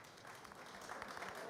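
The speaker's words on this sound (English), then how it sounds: "Thank you for your applause." Brief, faint audience applause filling a hall at a journalism support event, a soft continuous patter of many hands at a distance.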